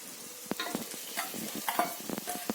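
Chicken sizzles softly in a hot pan while a utensil scrapes and stirs it with quick, irregular clicks, close up and fairly quiet.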